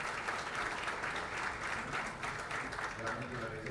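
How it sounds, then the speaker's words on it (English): Sustained applause from a conference audience at an opening ceremony, with many hands clapping steadily throughout at a moderate distance. "I would like to ask for an applause for Victor"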